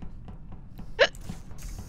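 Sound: hiccups

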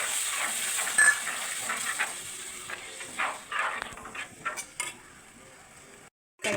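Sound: tamarind water poured into pan with fried coconut

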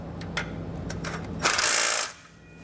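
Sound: ratchet with 13 millimeter socket tightening bolt on truck

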